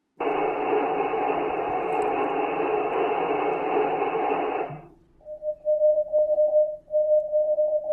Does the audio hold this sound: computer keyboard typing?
no